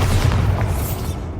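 A Bombarda explosion spell in Hogwarts Legacy on PS5, a single deep heavy boom with a rolling low rumble that fades within about a second.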